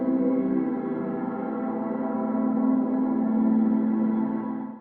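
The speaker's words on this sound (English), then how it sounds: "Here I've got this ambient drone that dry sounds like this." A sustained, steady synth drone hums with a warm, dense tone, dry and unchanging, continuing without breaks or other sounds.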